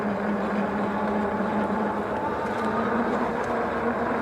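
Yoto Lion cargo e-bike running on throttle alone, its torquey hub motor giving a steady low hum with a tonal whine over continuous rolling road noise, close and even throughout.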